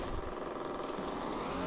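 A motorbike in GTA 5 rides along with a steady, buzzing engine drone that stays dense and constant throughout, with faint crackling on top and no speech.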